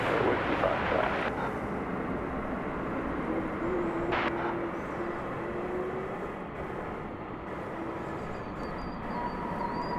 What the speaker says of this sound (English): There's American Flight 1974. Touching down after a flight from Las Vegas.